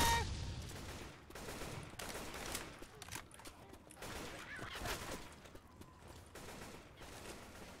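Video game gunfire during a zombie fight, fainter and scattered, with volleys and individual shots repeating under clattery game noise and occasional voices.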